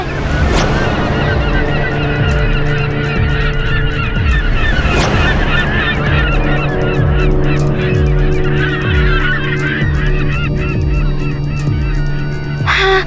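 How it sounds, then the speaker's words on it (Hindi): A large flock of geese keeps up loud, overlapping honking with no break, fairly close, with no one speaking. "वो देखो, वहाँ पे पक्षी दिखाई दे रहे हैं।"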